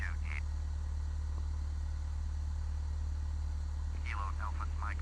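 A Cessna 172 piston engine drones at low power while taxiing in Flight Simulator X, a steady close hum with faint chirpy radio-like sounds on top.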